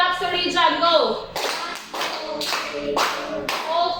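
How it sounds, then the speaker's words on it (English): A classroom of children claps together in rhythmic bursts at a teacher's cue, the claps loud and close with a voice talking over them. "Let's give 5 claps to Rajon."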